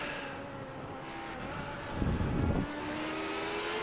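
LMP1 prototype race cars at Le Mans in the iRacing simulator, a continuous engine whine with a brief louder surge as one car sweeps close, no talking over it.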